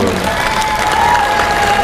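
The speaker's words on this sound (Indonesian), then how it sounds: "Oke, tepuk tangan dulu." Schoolchildren at a morning assembly break into loud, dense applause mixed with cheering and shouts, a continuous crowd roar close by.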